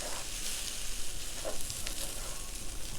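Steady, crackling sizzle of cornflake-crusted French toast frying in a hot pan, continuous and fairly close, with no voices.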